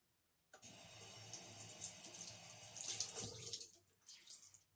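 Cold water runs from a tap over a reusable cotton pad, a steady splashing flow that starts abruptly, briefly thickens as the pad is wetted, then drops away and resumes; no talk.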